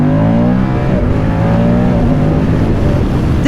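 A Moto Guzzi Stelvio motorcycle engine revs loud and close, its pitch climbing and dipping through throttle changes while riding, with steady wind roar underneath.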